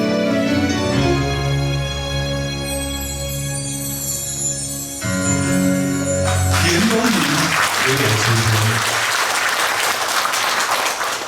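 A church congregation breaks into warm, sustained applause after a hymn, with music still sounding before the clapping swells and carries on to the end.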